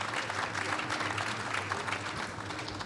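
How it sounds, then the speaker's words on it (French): Steady audience applause fills a conference hall at a European industry event, dense and even throughout with a low hum beneath, no voices over it. "Je laisse applaudir"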